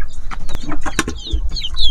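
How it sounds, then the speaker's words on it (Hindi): Young Aseel hen chicks on a farm in Karachi cheep and chirp close by, busy overlapping peeps mixed with soft clucking from the flock. "यहाँ पर हैं भाई हमारे बाकी के मुर्गी के प्यारे प्यारे और काफ़ी बड़े बड़े बच्चे"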